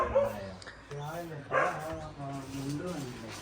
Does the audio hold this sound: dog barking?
yes